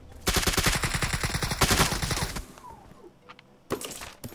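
Rapid automatic gunfire from a battle-royale shooter game, loud sustained bursts of many rounds followed by a quieter gap with scattered distant shots, then another burst near the end.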